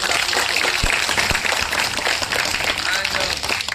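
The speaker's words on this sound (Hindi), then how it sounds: "एक बार जोरदार तालियां फिर से" A crowd at a college festival event at IIHMR Delhi claps in a dense, continuous burst of applause, with voices mixed into the noise.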